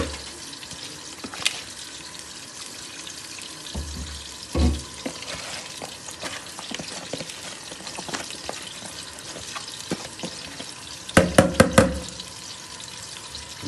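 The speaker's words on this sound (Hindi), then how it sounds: "चावलों का पानी जो है वो उबल गया है तकरीबन। ठीक है, गर्म हो गया सही और उबल गया है।" Rice is added to a large pot of boiling water for sweet mutanjan rice, giving a steady close bubbling hiss with scattered clinks and a brief cluster of louder splashing knocks near the end.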